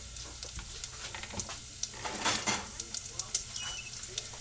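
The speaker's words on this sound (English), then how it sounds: "take one thick cut piece of bacon, cut it up, and brown it" Chopped pieces of thick-cut bacon brown in a pan, a soft steady sizzle dotted with small pops and crackles that swell briefly in the middle.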